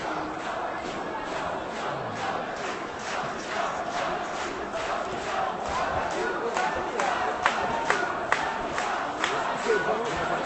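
Large crowd at a labour law protest march in Paris, a steady dense roar of many voices with scattered shouts and rhythmic chanting bursts, continuous and fairly loud throughout.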